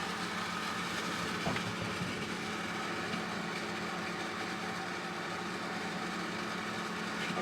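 An EENOUR QN750 portable air conditioner with its compressor running inside a camper van, giving a low, steady mechanical hum and drone that stays even and fairly quiet throughout.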